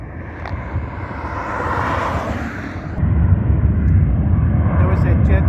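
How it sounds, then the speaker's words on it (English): A jet plane takes off from a Las Vegas airfield, heard at a distance as a broad rumbling roar that swells and then grows louder, mixed with wind noise while a person talks nearby. "There was that jet that we saw back there on the little concourse area back there that was getting ready, and there he goes."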